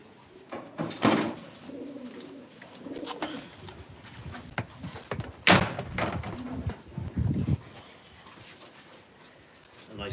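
Racing pigeons give soft, low cooing calls in bursts amid handling noises, with a few louder knocks or thumps close by and occasional quiet voices.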